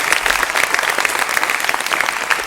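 Audience at a televised religious discussion with a Shankaracharya bursts into steady, dense applause with a few raised voices mixed in, close and loud throughout.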